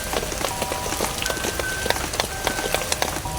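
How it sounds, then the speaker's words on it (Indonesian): Rain falls steadily on a camp at night, a dense even patter of drops close by with a few sharper ticks on nearby surfaces, continuous and without voices. "Efek teh hujan."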